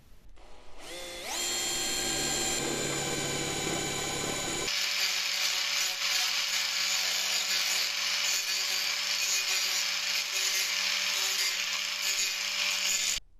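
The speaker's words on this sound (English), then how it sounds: "now I just need to drill some holes" A power drill boring holes in a Smart Roadster spins up to a high whine and runs continuously, shifting to a harsher grinding tone partway through as it bores in, loud and close.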